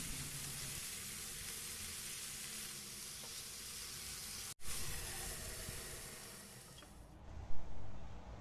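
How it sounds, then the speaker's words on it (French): Stuffed potatoes cook in a covered pan over low heat, sending up a steady, soft sizzle and hiss with a brief clatter of the lid near the end. "je mets le couvercle, je baisse le feu et laisse cuire 2 à 3 minutes"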